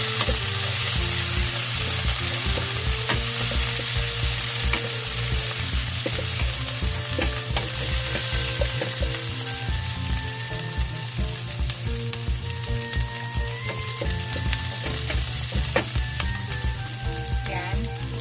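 Onions frying in ordinary cooking oil, a loud continuous crackling sizzle close up with light stirring, while faint tonal background sounds run underneath.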